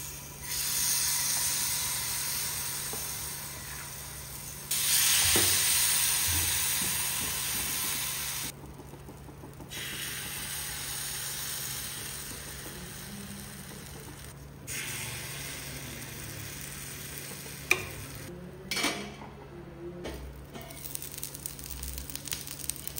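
Banana paddu batter sizzling in coconut oil in a paddu pan, a soft steady hiss that swells and drops in sections, with a few brief clicks near the end and no talking.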